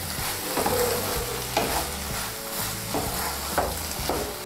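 Radish curry with mustard and poppy seed paste frying in a pan over high heat, a steady close sizzle with a few distinct scraping stirs at regular intervals, no talk.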